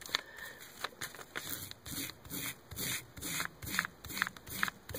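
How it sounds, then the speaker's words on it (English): Back of a knife scraping slime off a trout's skin, repeated rhythmic rasping strokes close up, about two per second. "Scrape some of the slime off with the back of your knife"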